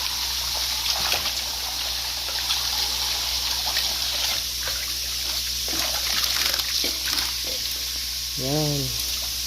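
Continuous water trickling and splashing in a tilapia biofloc pond, close and steady throughout, with a few sharper splashes, a faint background hum and a brief whistle-like tone near the end.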